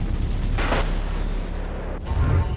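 An artillery shell is fired from a cannon: a broad booming burst followed by rumbling and a second sharp blast about two seconds later, heard with no talk.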